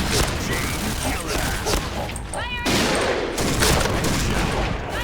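Dense, continuous automatic gunfire in the video game Point Blank crackles loudly throughout, with someone speaking over the shooting.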